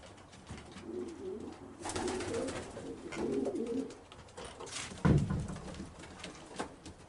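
Racing breeder pigeons cooing in an 8 by 12 loft, repeated soft low coos in several overlapping runs, close by, with a louder flutter or scuffle partway through.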